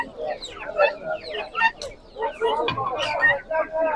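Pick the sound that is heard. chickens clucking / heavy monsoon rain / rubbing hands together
chickens clucking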